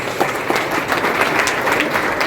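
An indoor audience at a business talk applauding, a dense, steady wash of clapping from many hands that holds at an even loudness throughout.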